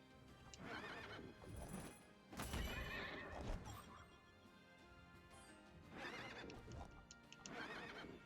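In the video game Child of Light, a horse neighs in several loud, shrill whinnies mixed with clip-clopping hooves and battle crashes, rising and falling in bursts across the scene.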